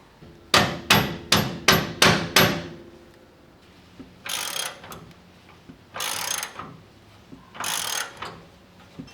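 Tightening an FK heim joint on a Camburg Kinetic upper control arm: six sharp, evenly spaced metallic knocks ring out close by, then three shorter, harsher ratchet-like bursts follow after a pause. No voices are heard.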